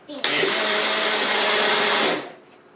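A blender whirs loudly and steadily for about two seconds, starting abruptly and winding down at the end.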